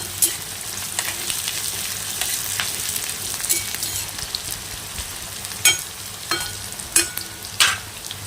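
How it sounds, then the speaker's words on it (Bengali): Onions sizzle loudly in a pan with a little salt while being stirred, with sharp scraping strokes of a spatula repeating toward the end. "একটুখানি পেঁয়াজ যখন ভাজা দেবেন এরম এরকম করে নাড়লে ভালো ভাজা হয়"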